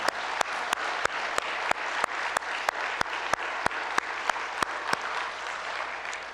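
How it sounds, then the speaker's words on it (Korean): A church congregation claps at an Easter Sunday service, with a steady, fairly even round of applause that stays at a moderate level throughout. "우리 부활하신 주님께 감사의 박수를 올려드리겠습니다."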